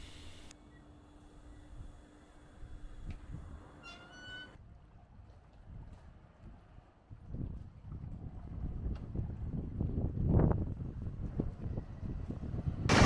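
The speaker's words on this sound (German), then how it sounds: "Der Wind, der hier jetzt so weht, ist der Marin und nicht der Mistral." Marin wind blowing across a marina with a moored sailboat, a steady broadband rush and microphone buffeting that grows louder and gustier in the second half; no one speaks.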